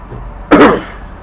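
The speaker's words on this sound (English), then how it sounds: "I'm coughing so much, I think I should end this episode" A single short, sharp cough bursts out close by, then quiet returns.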